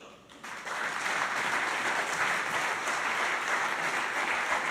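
A conference audience applauds at the World Athletics Global Running Conference in a Riga hotel. The clapping is dense and steady, rising quickly after a brief quieter start and holding at an even level throughout.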